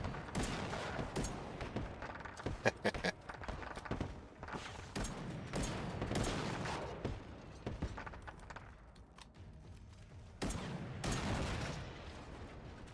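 Rapid bursts of gunfire in the video game Generation Zero, with repeated sharp shots in clusters and short pauses between volleys, loud and close throughout.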